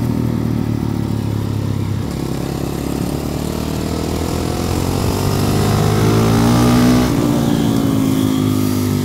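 A motorcycle engine drones steadily nearby on a race track, its pitch rising and falling slightly as it revs, continuous with no voices.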